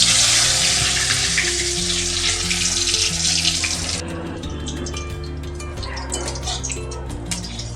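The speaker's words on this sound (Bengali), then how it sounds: "চুবিয়ে নিয়ে এবার আমি এটা তেলে ছেড়ে দিচ্ছি।" Shrimp-stuffed bottle gourd leaf fritters sizzle steadily in hot oil, a loud, continuous bubbling hiss that eases slightly partway through while a low background hum persists.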